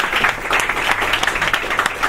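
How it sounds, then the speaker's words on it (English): An audience claps loudly and steadily for the winner at a live show, a dense, even patter of hands with faint cheering underneath. "can we clap it up for the queen, man?"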